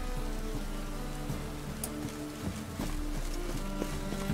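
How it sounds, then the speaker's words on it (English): Rain and howling wind in The Witcher 3 video game, a steady loud wash of rainfall with low rumbling wind, with faint game sounds and hoof-like knocks mixed in. "See? Look at all the rain and the wind."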